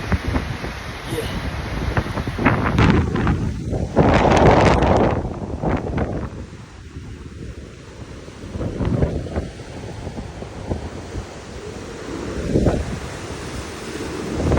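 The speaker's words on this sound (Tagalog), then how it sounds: "Grabe yung alon guys no." Ocean surf at Enoshima, Japan, with waves crashing and washing ashore in loud surges separated by quieter stretches, mixed with buffeting wind on the microphone and brief voices.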